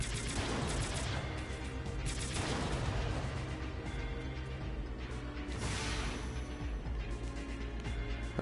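Gunfire and explosions in the PSVR mech game Zone of the Enders: The 2nd Runner MARS come as dense, rapid volleys and heavy booms that swell and fade over several seconds, with no talk over them.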